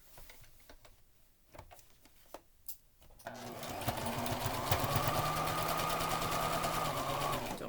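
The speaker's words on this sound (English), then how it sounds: "We're just going to do another 3/8 of an inch seam, back stitching at the beginning and the end." A sewing machine stitches a 3/8 inch seam on a fabric mask cover, starting with faint handling clicks, then a steady close whirring run of stitching for several seconds without speech.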